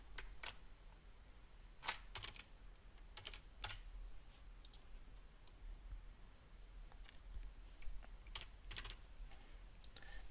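Quiet, steady typing on a computer keyboard while entering a company name in admin software, irregular clusters of crisp keystrokes with short pauses, no talk.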